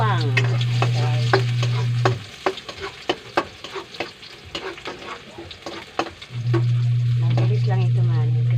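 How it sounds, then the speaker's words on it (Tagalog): Garlic and onion sautéing in a hot pan for chicken curry, with loud, steady sizzling, a burst of clattery stirring and scraping in the middle, then sizzling again, close up. "magigisa muna ako ngayon ng sibuyas at bawang"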